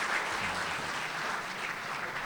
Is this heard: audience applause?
yes